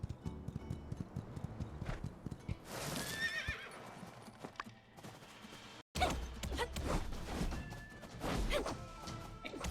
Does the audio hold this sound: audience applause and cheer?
no